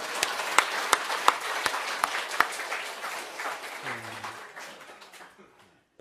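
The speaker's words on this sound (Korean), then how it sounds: "참 또 박수 한번 칠랍니까?" A church congregation claps during a sermon service, a loud round of applause with a few sharp separate claps near the start, fading out over about five seconds before a low voice and then silence.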